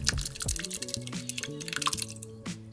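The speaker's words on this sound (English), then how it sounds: "using a fine mesh strainer, we're going to strain out all of the solids so that we're left with just the liquid" Homemade fire cider liquid pouring and dripping through a fine mesh strainer as the solids are strained out, with close, irregular splashes and drips continuing steadily throughout.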